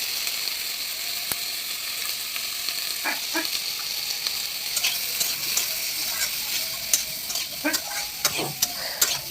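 Brinjal and potato with turmeric, chilli and cumin powder being stirred and fried in a pan, a faint steady sizzle with sparse scraping strokes that grow busier toward the end, close by and without talking.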